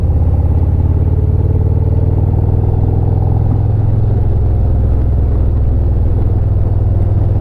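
A Harley-Davidson motorcycle rumbles steadily at speed through turns, its engine a loud, continuous low drone with wind buffeting, close and unbroken throughout.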